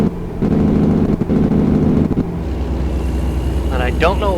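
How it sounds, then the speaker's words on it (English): A truck's engine brake in American Truck Simulator, a loud, low rumbling drone that chops in and out in uneven bursts before dropping to a steady lower hum, with a brief voice near the end. "I don't know what's going on with the sound of the engine brake. It's cutting out."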